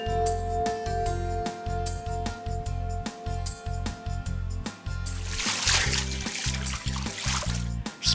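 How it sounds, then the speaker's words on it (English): Bath water splashes and sloshes in repeated bursts, with a rhythmic thumping pattern and a brighter, denser splash near the end. "Splashing water?"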